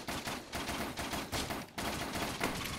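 In the Risk of Rain video game, a fireworks item fires a rapid, dense string of popping bursts, loud and continuous like crackling gunfire, with no voices over it.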